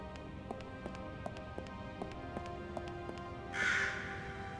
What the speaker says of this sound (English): A raven?